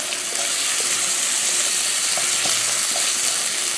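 Chickpeas and artichoke warming in a hot pan with a loud, steady sizzle and hiss, close up, with faint stirring clicks scattered through and no talking.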